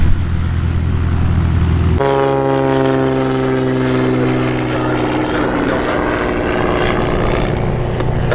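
Propeller airplane passing overhead from right to left at EAA AirVenture Oshkosh, a loud steady engine drone with rich harmonic tones that shift as it goes by, filling the whole stretch with no talk.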